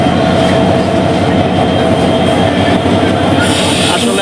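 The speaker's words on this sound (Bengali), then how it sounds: "এই যে চলে গেল, এই ইঞ্জিন আমাদের ঢাকা থেকে নিয়ে আসছে" A locomotive that came from Dhaka moves off at Chittagong junction with a loud, continuous rumble and rolling wheel clatter close by.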